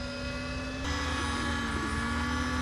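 A propeller aircraft taxis on the ground with its engine running, giving a steady droning hum with sustained tonal whine that grows slightly louder partway through.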